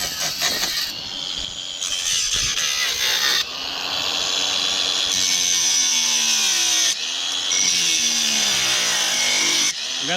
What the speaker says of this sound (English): We got the sawzall too.